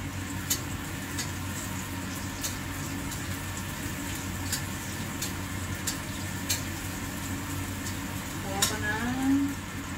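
Liempo pork belly marinated all day in garlic and onion sautéing in a pan, a steady low sizzle with scattered crackles and pops running throughout, close and moderately loud.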